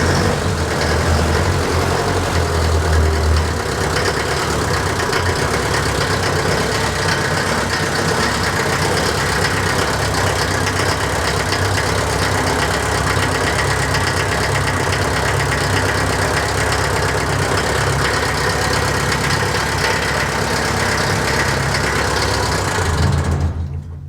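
An old barn-find Mercedes Unimog diesel engine idles steadily after a glow plug start, a loud, continuous low chugging rumble with no cooling fitted, running alone for about twenty seconds before cutting off.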